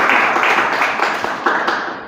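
A small classroom group claps for a student who has just spoken, steady close hand claps with a few distinct sharper taps, filling the short stretch without talk.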